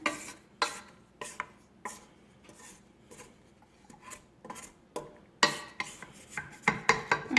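Spatula or scraper rubbing and tapping against the sides of a stand mixer bowl holding pretzel dough flour, a close series of dry scrapes and light knocks at an uneven pace, quiet, with no talking.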